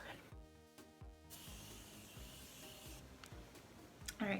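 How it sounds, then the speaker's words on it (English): A Morphe Continuous Mist setting spray sprays in one steady hiss lasting over a second, close up, followed by quieter rustling and a faint voice in the background. "I like to take some setting mist just to melt everything in"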